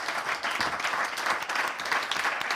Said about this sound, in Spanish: un aplauso para nuestros 3 escritores